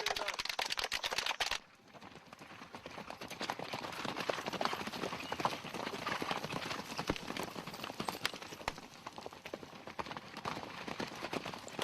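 Horse hooves clip-clop steadily during military cadet riding training, a dense, continuous rhythm of hoofbeats after a brief louder opening burst, fairly close and prominent.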